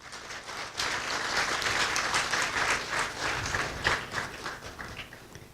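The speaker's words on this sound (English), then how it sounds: "Let's give her a round of applause." An audience at a book launch applauds: dense, steady clapping from a full room that holds for several seconds and tapers slightly at the end, with no voices over it.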